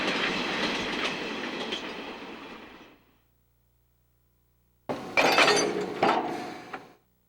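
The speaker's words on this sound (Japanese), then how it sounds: "ゼネラルエレクトリック社製の50トン箱型デッキ付き機関車 ED14" A General Electric 50-ton box-cab electric locomotive with end decks, the ED14 of Ohmi Railway, rumbles and clatters along the rails, loud and close, cutting to silence and then returning with rattling clicks.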